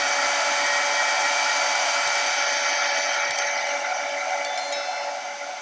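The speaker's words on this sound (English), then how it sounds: "Guys, I just happen to have a heat gun." Heat gun blowing hot air onto a running shoe, a steady close whooshing hum with a faint whine, tapering slightly toward the end, no voices.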